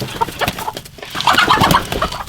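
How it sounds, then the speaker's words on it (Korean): A chicken clucks loudly and flaps close by while it is being caught, with busy, agitated scuffling noise throughout. "닭이 날릴 것 같은데 막."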